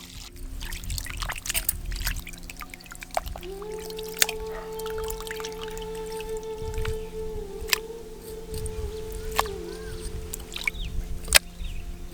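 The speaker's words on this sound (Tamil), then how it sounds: "வெள்ளாட்டு கறியை தண்ணி ஊத்தி சுத்தமா கழுவி எடுத்துக்கலாம்." Water is poured over boneless goat meat to rinse it clean, splashing and trickling in a metal vessel with scattered clinks, close and steady for several seconds.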